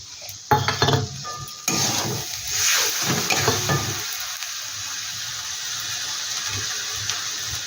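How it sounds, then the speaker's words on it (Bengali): Masala with grated tomato fries in a pan with a bright sizzle, mixed with clanks of a spoon against the pan at the start, then settling into a softer, steady hiss. "এবার আমি মশলাটা কিন্তু খুব সুন্দর করে কষিয়ে নিই"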